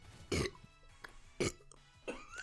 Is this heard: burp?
yes